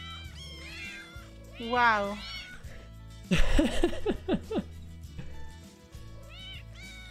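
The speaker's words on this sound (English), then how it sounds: "Oh, there are so many cats here." Several cats meow in a cute feline multiplayer game, a chorus of high, sliding mews that overlap in bursts, with a louder cluster midway, under and between excited speech and game music.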